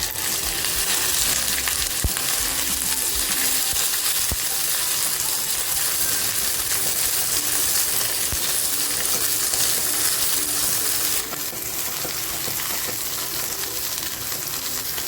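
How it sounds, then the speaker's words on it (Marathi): Okra sizzles steadily in hot oil in a pan, a dense, continuous crackling hiss held close and loud throughout, easing slightly near the end, with no talking. "हलकीशी भेंडी फ्राय करून घेते अगोदर तेल छान गरम झालंय भेंडी टाकून घेते"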